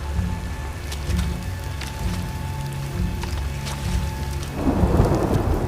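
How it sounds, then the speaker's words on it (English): Steady rain pours with low rumbling thunder beneath an eerie synth drone in a dark, rainy scene from the TV series Andor, the downpour swelling louder near the end. "Eerie synth drones play underneath throughout this dark, rainy scene."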